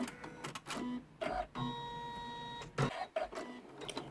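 An embroidery machine stitching around the side of a curved zip pouch runs in loud, close bursts of rapid mechanical whirring and clatter, broken by short pauses between runs.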